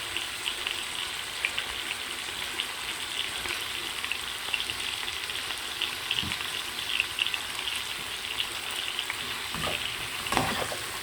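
Onion frying in a pan while attieke is being prepared: a continuous close sizzle with soft crackles and occasional stirring knocks, no voices.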